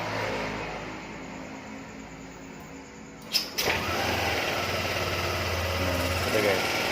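A Yamaha Aerox scooter with a faulty ignition is started; after a quiet stretch a short cranking burst catches into a steady, moderately loud idle that keeps running to the end.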